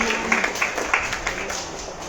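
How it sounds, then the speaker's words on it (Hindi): A small youth worship gathering claps briefly, a few scattered, soft handclaps with murmured voices in the room. "ताली बजाओ"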